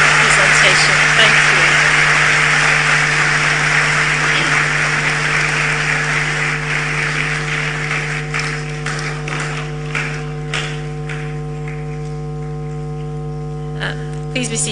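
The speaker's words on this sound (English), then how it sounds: "Please, one final last applause for His Eminence for a wonderful lecture and presentation." Applause from an audience after a leadership lecture in a hall fades out over a steady hum, loud dense clapping at first thinning to scattered claps.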